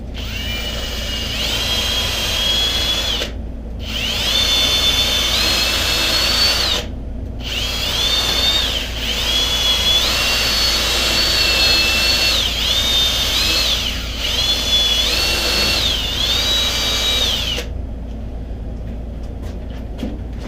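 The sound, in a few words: power drill clearing out basement pipes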